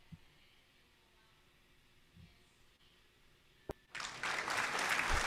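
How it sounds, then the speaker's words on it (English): Applause from a studio audience at a business and networking talk breaks out suddenly after a near-silent stretch, then swells into a dense, steady clapping wash that runs to the end. "let's give him some applause for that one"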